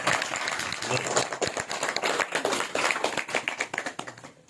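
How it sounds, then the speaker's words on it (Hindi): An audience clapping together in response to a call for loud applause at a spiritual discourse, dense and steady with a mix of sharp individual claps and a crowd wash throughout. "जोरदार ताली बनाइए खुद के साथ"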